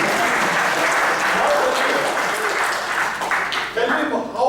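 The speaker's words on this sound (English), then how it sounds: "Little bit clap is always okay." Steady applause from a classroom audience fills the whole stretch, loud and dense, with a few voices mixing in near the end.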